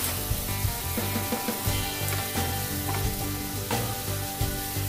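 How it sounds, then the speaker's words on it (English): Dry pasta Alfredo is dumped into a pot of boiling water and stirred in, giving a dense, continuous bubbling hiss with scattered clatter and stirring knocks throughout. "we got our water boiling. We'll go ahead and put this pasta Alfredo in here"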